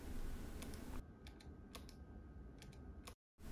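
Keys clacking on a Keychron K3 mechanical keyboard paired with an iPad, a handful of distinct sharp clicks spread irregularly through a quiet room with low background hiss, close and moderately soft.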